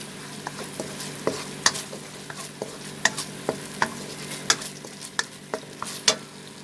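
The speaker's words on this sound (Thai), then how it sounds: "พัดกะทิกระแกงพริกแกงกันนะ พัดให้มันแตกมั่นลยค่ะ" Curry paste stir-fried in coconut milk for a Thai fish-ball curry sauce, with steady bubbling sizzle and repeated sharp clicks and scrapes of a utensil against the pan, close and alone without talk.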